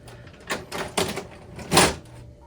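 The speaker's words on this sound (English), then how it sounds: "Then open the cartridge access door from the front of the printer by pressing this button." Front cartridge access door of an HP Color LaserJet Pro MFP M479 printer being opened with its release button: a few close plastic clicks and clacks, then a louder thud as the door swings open.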